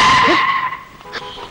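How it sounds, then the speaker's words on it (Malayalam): A vehicle skids with a loud, high tire squeal close by that fades into quieter bumps and knocks as it comes to a stop. "വണ്ടി കൊണ്ടുവന്ന് ഇടിച്ചിട്ട് സോറിന്നാ"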